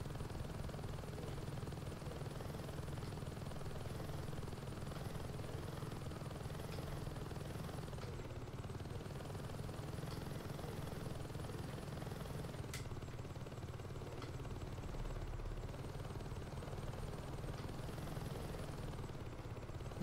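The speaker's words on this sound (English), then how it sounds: "It's an attack helicopter." An attack helicopter in the video game Saints Row 2 drones with a continuous low rotor thrum, heard faintly and steadily throughout with a few sharp clicks on top.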